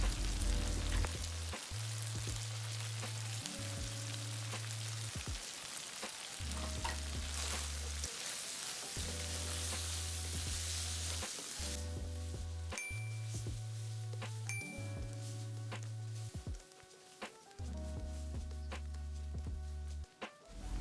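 Prawns and stink beans sizzle in red curry paste with big chili and kaffir lime leaves, a steady loud frying hiss with scraping stirs throughout, while a low hum runs underneath and no one speaks.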